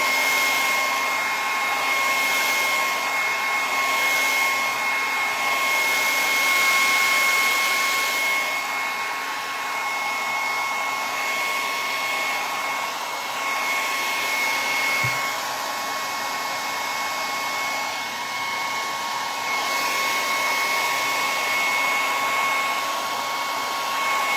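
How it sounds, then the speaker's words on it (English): A hair dryer blows continuously with a steady whine and rushing air, close by, with no one speaking. "So I've got my hairdryer here to do that."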